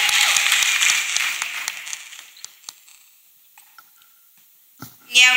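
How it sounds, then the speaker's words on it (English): A church congregation claps in a dense burst that starts loud and then thins out to a few scattered claps, followed by a short noise at the end. "Let us clap for Master Jesus."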